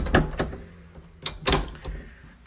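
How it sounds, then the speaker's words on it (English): The front door of a cottage opens with a few close knocks, rattles and thumps in a quiet hallway, with no talking. "So as we come through the front door of the house"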